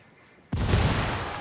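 A frag grenade blast in the video game Ghost Recon Wildlands: after a quiet stretch, one loud, sudden boom hits and rolls on as a sustained rumbling roar that fades only slightly, with no voices over it.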